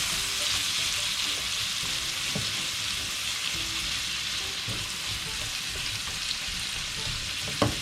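Tomatoes frying with ginger and garlic in a pan for a chana dal and lauki dish, a steady, close hissing sizzle throughout with faint stirring under it and no talk.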